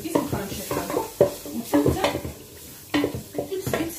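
Green olives are stirred in a pot for a tajine, giving a series of scraping, clattering utensil strokes in an uneven rhythm over a soft sizzle, close and fairly loud.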